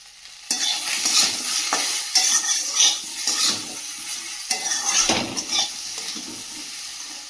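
Potatoes frying in a pan while being stirred, a steady close sizzle broken by repeated scraping, clattering strokes of a utensil against the pan.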